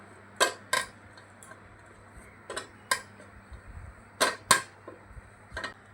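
A rolling pin works a tomato-paste flour dough ball into a puri on a board. It gives about eight sharp, close wooden knocks in uneven pairs, with quiet rolling between them and no talking.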